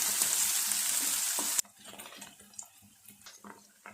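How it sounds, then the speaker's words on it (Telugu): Ivy gourd shallow frying in a pan: a loud, bright crackling sizzle for the first moment, then much quieter frying with scattered soft pops and occasional stirring clinks. "మనం షాలో ఫ్రై చేస్తున్నాం కదా, కొంచెం లేట్ అవుతుంది"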